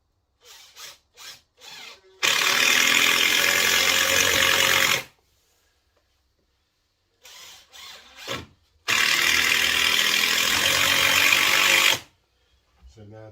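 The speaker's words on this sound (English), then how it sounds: "I'll just spike a couple of screws" A power driver sinks screws into a timber sole plate during studwork framing. Two long, loud, steady whirring runs of a few seconds each are separated by silence, with short mechanical clicks and blips before each run.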